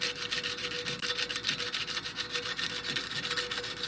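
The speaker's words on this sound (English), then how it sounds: "So we're going to just take our sandpaper on very lightly." Sandpaper rubbing lightly over a mountain bike brake rotor, a close, steady rasping scrape in quick back-and-forth strokes, with a faint constant hum underneath.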